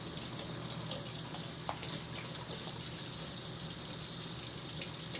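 Water runs steadily while melon seeds are rinsed in a jar, a constant close splashing wash with a faint clink partway through and no talking.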